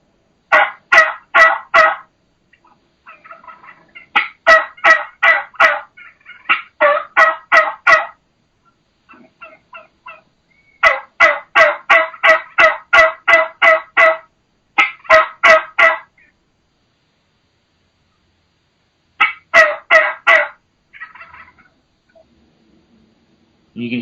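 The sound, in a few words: turkey hen calls, boss hen or old mature hen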